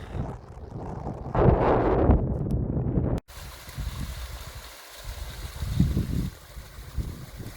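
Wind blows across a hilltop on a coast to coast walk, buffeting the microphone in rough, rumbling gusts that rise and fall, with a brief dropout partway through.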